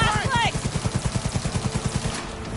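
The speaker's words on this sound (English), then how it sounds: "I feel like it's shooting missiles." Rapid, evenly spaced bursts of gunfire from a smart weapon firing missiles in Cyberpunk 2077, loud and continuous over about two seconds, with game sound effects sweeping above them.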